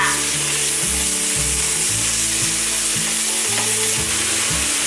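Tofu skin stir-fried with a spatula in a hot pan, a steady close sizzle broken by repeated scraping strokes of the spatula, no voices.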